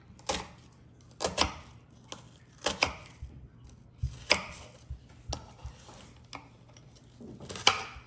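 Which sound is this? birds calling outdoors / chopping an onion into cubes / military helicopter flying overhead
chopping an onion into cubes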